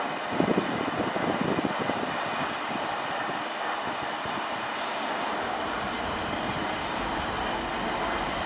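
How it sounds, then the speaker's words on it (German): An ICE 1 high-speed train passes behind a signal box, a broad steady rumble and rush from some distance that holds throughout, with a few faint higher squeals. "der 1er ICE ist halt einfach der schönste von allen. Und da kommt jetzt auch gleich einer hinter dem Stellwerk."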